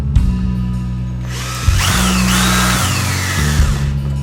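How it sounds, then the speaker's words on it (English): A power drill bores an axle hole through a laminated PVC compound bow, whining loudly in several bursts with pitch shifts as the bit bites and the motor revs up and slows between pauses. "Last but not least, I've got the axle hole to drill."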